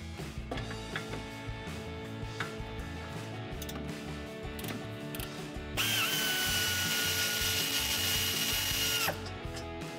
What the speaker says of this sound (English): My air ratchet in here.